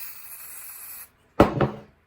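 A can of contact cleaner gives a short spray onto a paper towel during a 2008 Weatherworks 6-inch desk fan restoration: a single crisp hiss burst, close and brief, after a quieter stretch of faint hum.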